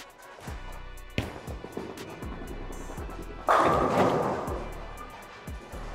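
Bowling ball striking the pins for a strike on an unoiled lane in a match, a loud crashing burst of pin scatter mid-clip with earlier lane thuds and rolling, voices faintly around it.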